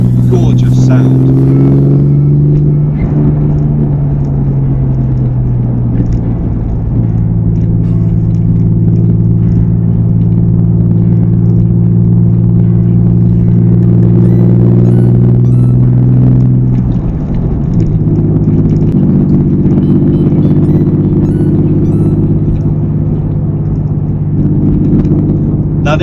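A 1999 Porsche 911 Carrera with a 300 bhp engine hums steadily while driving, a loud sustained low drone that shifts pitch around mid-clip as if changing gear, with the tone holding continuously throughout.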